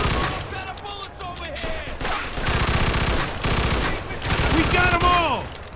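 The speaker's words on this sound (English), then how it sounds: "Stop shooting that fucking thing! I'm going deaf over here!" Sustained machine gun fire in the Mafia II video game: dense, rapid bursts of loud gunshots rattling almost continuously, with shouted voices and cries mixed in among the shooting.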